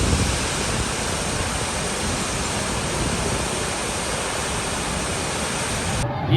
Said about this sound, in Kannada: ಇನ್ನೊಂದು ಇಂಟ್ರೆಸ್ಟಿಂಗ್ ವಾಟರ್ ಫಾಲ್ ಹರಿತಾ ಇದೆ.